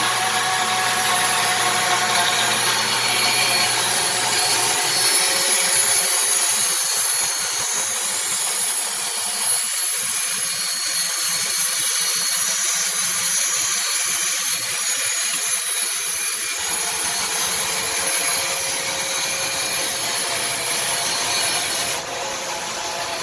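A saw resawing a wood board on a homemade sled runs loud and steady for about twenty seconds, the cutting growl deepening in the middle section before easing off near the end.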